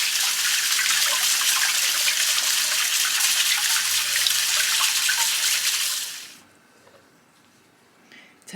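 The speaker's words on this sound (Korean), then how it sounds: "전복이 지저분한 곳에 붙어 있던 거니까 깨끗하게 솔로 씻어 주도록 할게요." Abalone being scrubbed clean with a brush under running water in a kitchen, a steady broadband rush of water and scrubbing for about six seconds before it stops abruptly, leaving near silence.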